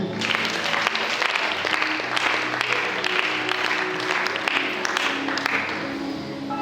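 A congregation at an Easter celebration in Pointe-Noire applauds steadily, with dense, sustained clapping that fills the space at an even loudness throughout.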